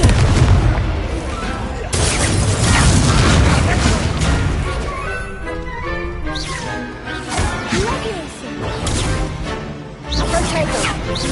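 Confringo spell blasts in Hogwarts Legacy boom amid continuous loud combat noise, crashes and rumbling effects layered together, with a voice shouting spells over the din.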